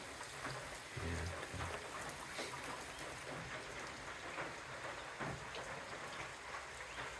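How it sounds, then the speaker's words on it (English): Light rain showers falling at an Appalachian Trail shelter in the early morning, a steady soft hiss of drops with occasional louder taps on a surface, continuous and unbroken. "Some light rain showers."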